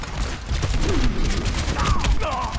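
Gunfire from McCree's revolver in an Overwatch match: a quick string of loud cracking shots over dense, busy battle noise, with chirpy ability sounds and effects layered on top near the end.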